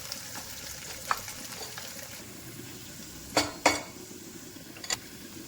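Mushroom curry frying and sizzling in a pan, with steady hiss under a few sharp scrapes and clatters of a spoon stirring against the metal.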